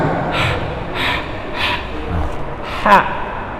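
A voice imitates breathless panting, several short forceful breaths in a steady rhythm, ending with a sharper gasp.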